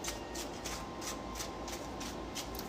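Tarot cards riffled in a steady run of soft, rhythmic shuffling bursts, close and moderately loud, with no talking.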